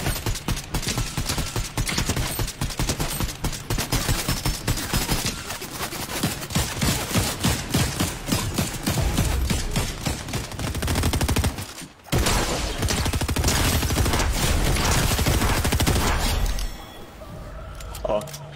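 Video game gunfire in a shooter match: nearly continuous rapid bursts of automatic fire and impacts, loud and dense, with a brief gap partway through before the barrage resumes, and voices talking over it.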